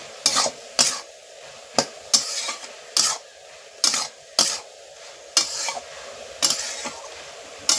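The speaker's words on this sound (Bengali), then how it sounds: "এবার হলুদ গুঁড়ো দিয়ে দিচ্ছি ভালো করে বেড়ে নেব হলুদটা দেওয়ার পরে" Ash gourd vegetable curry with turmeric is stirred in a pan, a ladle scraping and clanking at a regular rhythm, about a dozen strokes over a soft sizzle, with no speech.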